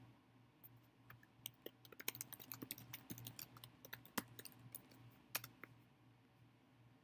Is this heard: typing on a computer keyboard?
yes